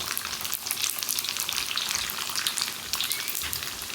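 Balls of marinated minced pork mixed with glass noodles deep-fry in hot oil, giving a dense, continuous sizzle full of sharp crackles and pops, with no talking.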